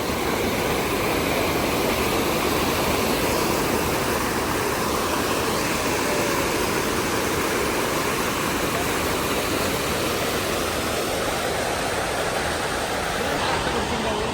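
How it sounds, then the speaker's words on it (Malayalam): Waterfall near a frog-filled pool at Thirunelli, a steady, loud, broadband rush of falling water that stays constant and unbroken throughout. "ഇവിടുത്തെ വെള്ളച്ചാട്ടമാണ്"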